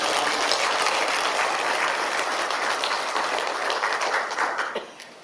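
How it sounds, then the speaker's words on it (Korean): A church congregation gives a round of applause during a 74th-anniversary Sunday service, dense clapping from many hands that holds steady and then tapers off near the end. "하나님께 영광의 박수를 한번 올려드리도록 하겠습니다"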